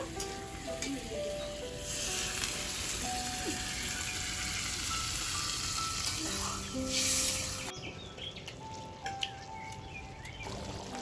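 A spiced pointed gourd and shrimp curry, fried down well, sizzles loudly in a hot pan as water goes in, a dense hiss that swells and then drops off abruptly, leaving quieter bubbling and clatter.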